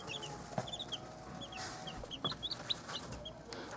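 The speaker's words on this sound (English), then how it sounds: "The chickens are 6 days old are a lot bigger." Six-day-old chickens clucking and chirping in a steady scatter of short calls, close by and fairly quiet over a low background hiss.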